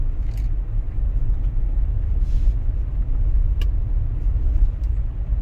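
A 2019 Toyota 4Runner Limited fitted with Ironman Foam Cell Pro suspension drives a dirt road at about 30 mph, giving a constant low, heavy rumble from inside the cabin, broken by occasional sharp clicks and knocks.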